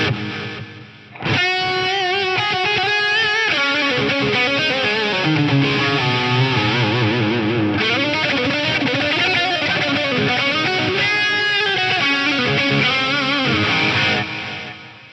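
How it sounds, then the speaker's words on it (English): Lexicon MPX-1 effects unit processing a guitar-like signal with delay and reverb, repeating echoes trailing into a dense wash of sustained tones, loud and continuous for about thirteen seconds before fading to silence. "If I go to the reverb and change the mix, then I'll actually be able to hear some of my delays first."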